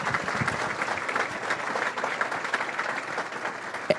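An audience at a chamber of commerce Business of the Year awards applauds the winners with dense, sustained clapping that fills the room evenly, with no speech.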